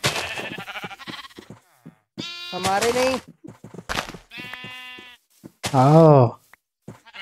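Goats bleat in the video game Minecraft, several loud, wavering calls close by, mixed with short thumps and a person talking between them.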